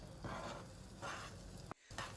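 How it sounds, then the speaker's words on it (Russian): Chilled fat-tail lard sizzles in a frying pan over heat a little below medium, a soft, faint crackling hiss broken by a brief pause near the end. "Отправляю курдюк в сковородку."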